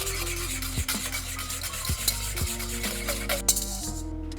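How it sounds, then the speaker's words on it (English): Butterscotch pudding mixture being stirred continuously in a pot on the stove, with rhythmic scraping strokes of the spoon against the pan repeating about once per second, close and clear. "I'm gonna stir it continuously so it doesn't curdle"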